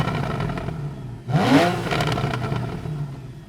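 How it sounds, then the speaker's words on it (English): A Porsche 911 Carrera S (991.1) engine idles in neutral with a low burble, then blips sharply, its revs rising and falling once before settling back to idle. "Just going to put it in neutral and let you hear the sound."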